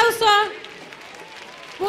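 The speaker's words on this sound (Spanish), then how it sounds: "escuchen fuerte ese aplauso." A short burst of voice gives way to a soft, steady patter of audience applause at a choir concert that carries on at a moderate level.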